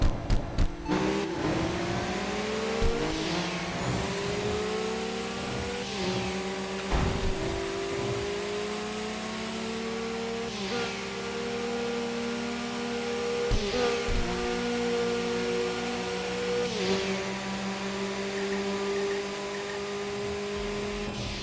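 A car engine in a racing video game held at high revs without shifting up, its whine rising and sliding in pitch with several sharp drops, fairly loud and continuous.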